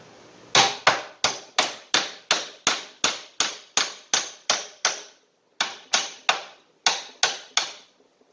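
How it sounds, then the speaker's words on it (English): Hammer blows loosen a lock nut on a Graco 650 airless paint sprayer pump. About fifteen sharp metallic strikes come in a steady rhythm, close and loud, with one short pause partway through. "Do it with a hammer."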